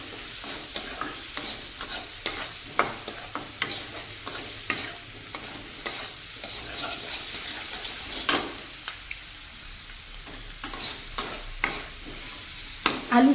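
A small potato is stirred and fried in a pan, a soft continuous sizzle broken by repeated scraping and clinking strokes of a spatula at an irregular pace.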